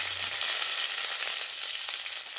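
Curry leaves, green chilies and ginger sauté in a hot pan with a loud, continuous sizzle that holds steady throughout, with no speech.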